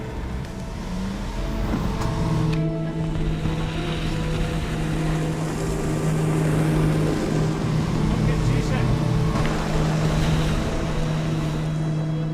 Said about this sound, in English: The engine started just before it's gone into the water.